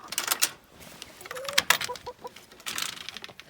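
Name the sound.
chickens clucking as they are let out of the coop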